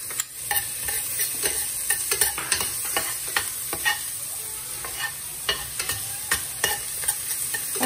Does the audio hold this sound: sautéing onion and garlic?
yes